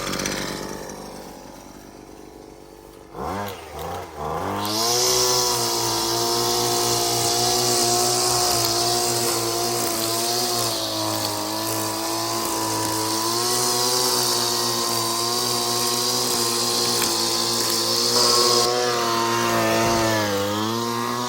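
A Husqvarna 330LK string trimmer engine starts, then runs loud and steady at a high, buzzing idle while edging, held close and alone with no voices.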